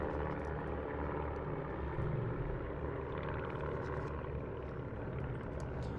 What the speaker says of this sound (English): So right now you are watching the Dawn Patrol air shows. Those are 7 RV aircraft.